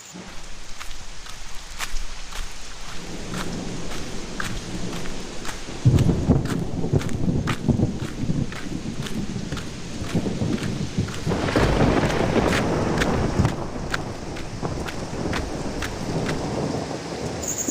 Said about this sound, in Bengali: ওহ, যা বৃষ্টিটা শুরু হয়েছে।